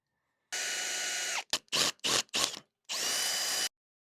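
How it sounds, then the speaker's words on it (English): A power drill bores a hole through a steel plate during a gate repair: one long whirring run, then four short stop-start bursts, then a final long run, close and clear. "I'm gonna come back through here and drill a hole"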